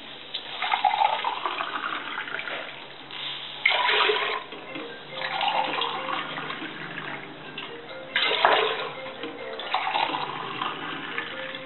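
About six glasses of water are poured into a pressure cooker while cooking bisibele bath, arriving in several splashing bursts separated by short pauses.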